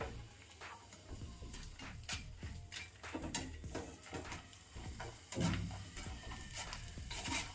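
Chopped cashews fry in a pan for a Telugu rava snack, giving a soft, steady sizzle with scattered stirring and scraping clinks, faint and close, with no voices.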